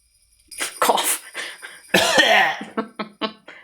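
A run of harsh, rough coughs in quick bursts, a pause, then a louder coughing fit trailing into short hacking coughs, close and alone, from a video game.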